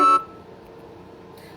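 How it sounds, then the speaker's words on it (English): An alarm clock gives a short, sharp electronic beep, followed by near silence and a faint trace of another tone. "that's my alarm clock."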